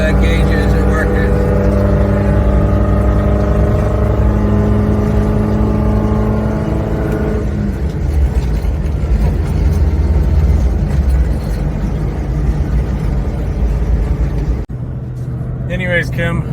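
A 1987 Suzuki Samurai engine and exhaust run steadily at close range, a continuous loud rumble that shifts tone midway and dips briefly near the end, with people talking over it.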